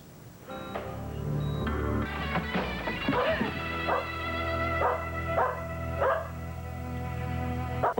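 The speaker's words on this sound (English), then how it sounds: "It's a dog." A dog barks and yips in a series of short, sharp calls, some higher and whiny, repeated at a steady rhythm and heard fairly close.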